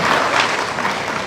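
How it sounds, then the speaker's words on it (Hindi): Audience applause at a crowded public talk, a dense steady wash of clapping filling the whole moment without a break. "ताली बजाइए उनके लिए।"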